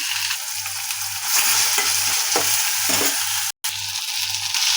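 Tomato and onion frying in a pan with a little turmeric and salt, giving a steady broadband sizzle with scraping stirs throughout, one brief dropout near the end, and a low steady hum underneath.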